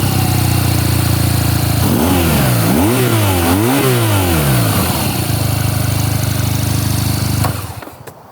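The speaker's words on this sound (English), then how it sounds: "This one actually has an Akrapovic on it, and it sounds great." BMW R nineT motorcycle with an Akrapovic exhaust, loud and close, idling in a deep steady thrum, then blipped through a few quick rising and falling revs before settling back to idle and cutting off.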